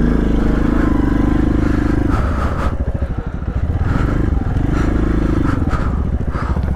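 An off-road motorcycle descends a steep downhill trail, its engine droning loudly and close with rattling and scraping from the rough ground, rising and falling in pitch.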